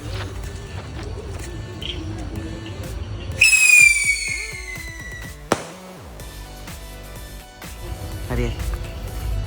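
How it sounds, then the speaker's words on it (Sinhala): Whistling firecrackers set off during Sinhala New Year celebrations, one giving a loud rising-then-falling shriek for about two seconds, followed by a sharp bang, with background chatter and noise around it. "විසිල් ආස්කුරු කියලා."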